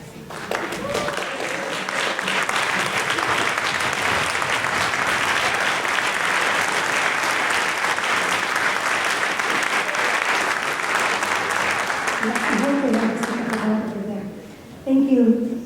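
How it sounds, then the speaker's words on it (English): A concert audience applauds at length, dense steady clapping filling the hall for most of the stretch before it fades, then a voice speaks briefly at the end. "let's all clap for them"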